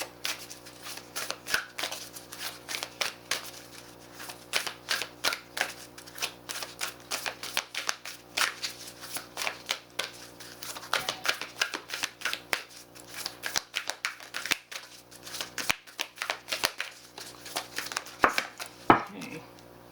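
Oracle cards from a Moonology deck being shuffled by hand, a long run of crisp, rapid riffling clicks and flutters in uneven bursts, close up, with a few louder taps and shuffles near the end.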